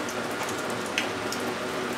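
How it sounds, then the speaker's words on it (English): Heavy rain falls steadily during a storm not yet part of Hurricane Irma, a dense continuous patter with wind noise, loud and close throughout, with no voices. "got a lot of wind and rain going on"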